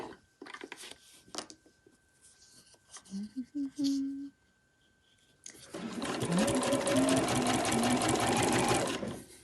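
A sewing machine runs in a long, steady burst, stitching fabric with a fast, even chatter, after a few short back-stitch bursts and a pause, with some talk early on.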